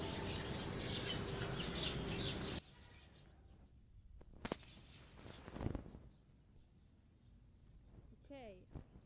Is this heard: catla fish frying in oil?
no